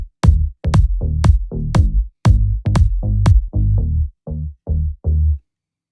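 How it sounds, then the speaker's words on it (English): A main synth bass from the Splice preset Bass 02 Vogue, used in producing Ariana Grande's "yes, and?", plays about a dozen short, punchy notes in a bouncy rhythm, each with a quick decay, alone and up front. "Now, this bass consists of a main bass,"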